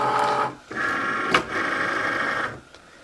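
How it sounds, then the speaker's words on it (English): A Cricut cutting machine pulls in its mat while a vinyl stencil is being made. The motor gives a close, steady mechanical whir that starts, pauses briefly and runs again before stopping, with no speech over it. "as you're pressing it, it will feed into the machine"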